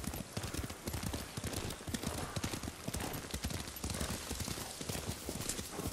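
Horse hooves in the Ghost of Tsushima video game as a rider travels: a steady, dense clip-clop of galloping hooves throughout, loud and continuous over a busy, noisy background.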